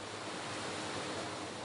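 Rushing water pours through an elevated tank built for a film-effects model: a steady, even broadband roar with no breaks, fairly faint and heard alone.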